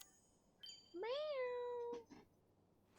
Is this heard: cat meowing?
yes